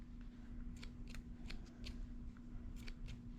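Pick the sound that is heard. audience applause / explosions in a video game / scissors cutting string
scissors cutting string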